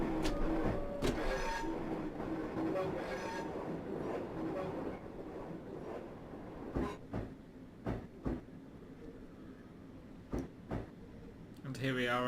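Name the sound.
Class 465 EMU train slowing down in Train Simulator video game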